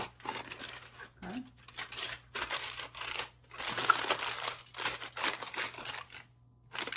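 Aluminium foil packets of food being crimped and folded closed by hand, a steady close crinkling and crunching in repeated bursts with brief pauses between folds.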